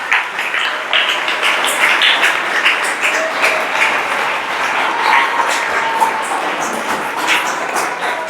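A church congregation applauds and cheers, a busy crackle of clapping close by that holds steady for several seconds.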